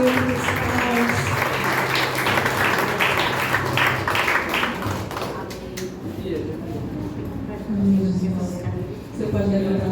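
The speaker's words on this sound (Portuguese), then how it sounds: "Louva ao Senhor com as palmas." A church congregation at a celebration service claps together during worship, a dense rhythmic wash of hands over music and voices that thins out midway as singing continues.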